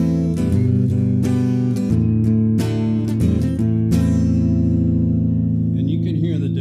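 An electric guitar played through its neck pickup with the tone control rolled fully closed, giving a dark, muffled run of plucked notes and chords that ring out and sustain at the end.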